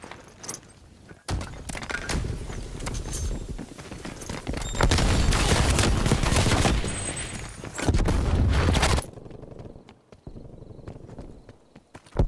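Artillery strike pounding down in Black Ops Cold War, heavy loud booms and crashing impacts in dense bursts across the clip before dropping to a quieter rumble near the end.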